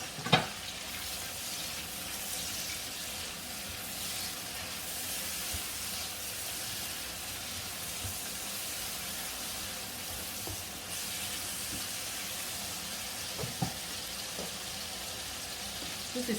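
Carrots go into a hot pan and fry with a continuous, even sizzle and hiss, with a few brief clinks of stirring along the way.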